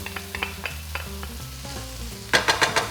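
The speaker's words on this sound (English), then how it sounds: "let the onions saute" Onions sautéing in a pan with garlic and ginger just added for a korma, a steady soft sizzle with stirring scrapes and a few tonal clinks, getting louder and busier near the end; no voices.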